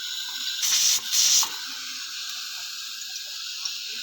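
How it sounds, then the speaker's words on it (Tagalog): A pressure cooker vents steam in a steady, close hiss, with two louder bursts of release early on before it settles back to a constant, even stream. "Yan po guys, pressure cooker ko yan."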